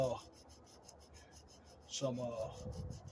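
Scotch-Brite pad scrubbing the cylinder head surface of a 2007-2011 Toyota Camry during a valve cover gasket job, faint short rubbing strokes with a brief louder scrape near the end.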